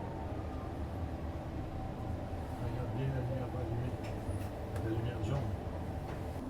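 REM light-rail train in Montreal running and slowing toward a station, a steady low rumble with faint rattles heard from inside the car, while a voice talks quietly over it.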